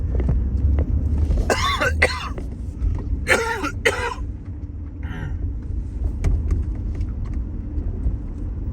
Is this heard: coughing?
yes